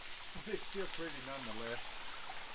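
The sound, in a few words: waterfall at Bear Den campground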